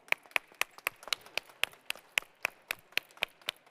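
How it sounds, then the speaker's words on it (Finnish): A small group claps for the waiter finalists at a cooking and waiting competition final, a sparse, even run of sharp individual claps at a moderate distance. "Isot aplodit tarjoilijoille"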